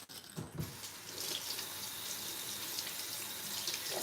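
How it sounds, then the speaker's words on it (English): Sink tap running steadily while a cooked pan is rinsed under it at home: a soft, continuous splashing rush close by, starting after a brief clatter, with no talking. "Let me rinse it."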